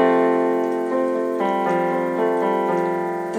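A piano plays part of a song in an easy arrangement, a handful of clear notes struck one after another and left ringing, close and alone without talk.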